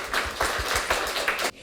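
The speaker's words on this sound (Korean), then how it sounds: "큰 박수로 맞아 주십시오" Audience applause greets a professor invited to the stage at a 2019 climate-crisis forum session, a dense burst of clapping with rhythmic pulses that cuts off abruptly near the end.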